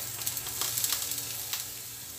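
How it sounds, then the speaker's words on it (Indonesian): Ginger and garlic sautéing in a little oil, a close bright sizzle with quick crackling pops over a low steady hum. "terus jahe dan bawang putih kita tumis dulu"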